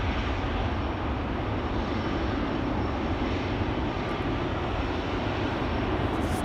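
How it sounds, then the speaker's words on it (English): A Finnair airliner arriving at Amsterdam's Schiphol Airport produces a broad, steady jet roar that stays loud and unbroken throughout, with no voices. "Oh, Finnair just arrived."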